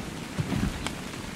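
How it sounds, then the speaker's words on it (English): Steady rain falls in the survival game ARK: Survival Evolved, a soft continuous hiss with a faint low rumble, heard alone without talk. "That would be nice if it would stop raining."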